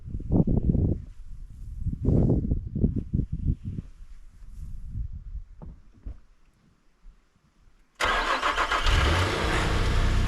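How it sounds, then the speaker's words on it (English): A truck engine starts in below-freezing cold: several uneven cranking bursts and sputters, a pause, then at once a loud steady running roar close by. "I still want to start up the truck, let it run for a little while so the battery doesn't go dead"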